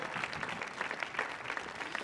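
Steady audience applause at a Millennium Stage concert by the Amplify Peace Tour, filling the two seconds evenly with dense clapping, no voices above it.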